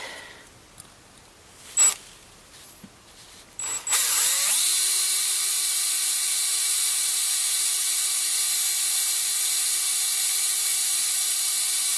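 A power drill bores a hole into a silver spoon being made into a ring: a few faint clicks and taps, then the drill starts and runs as a steady, loud whine for about eight seconds.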